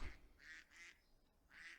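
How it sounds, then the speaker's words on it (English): Video game ducks in Clayblock give a short run of faint honking quacks, three or four brief calls separated by short pauses. "Oh, all my ducks came with me."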